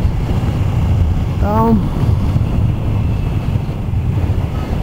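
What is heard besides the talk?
strong wind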